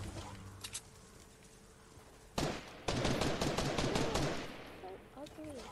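Rapid bursts of gunfire in the Fortnite video game, loud and close, starting suddenly and rattling on for a few seconds before fading, with game effects in the background.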